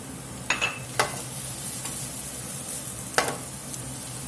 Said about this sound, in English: We're gonna get some garlic in. Get some onion in.